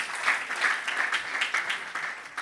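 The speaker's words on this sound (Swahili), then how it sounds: "Makofi mazuri kwa Bwana Yesu." Applause at a Christian agape gathering for young people, a brief burst of clapping from a crowd with rhythmic pulses, fairly soft and heard from some distance.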